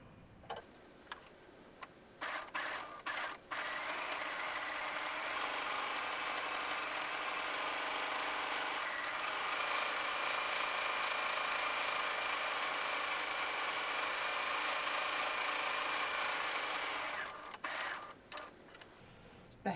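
A sewing machine with a full bobbin stitches steadily for about fourteen seconds, a dense even whir with a ticking mechanical rhythm. It is framed by a few brief clicks and stops at the start and end.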